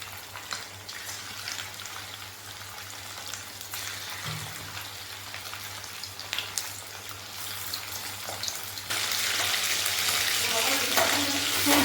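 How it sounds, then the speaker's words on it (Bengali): Chicken pakoras deep-frying in hot oil, a continuous bubbling sizzle with occasional clinks, growing noticeably louder and hissier in the final few seconds. "তো দেখতে থাকো পকোড়াগুলো আমি কিভাবে ভাজছি।"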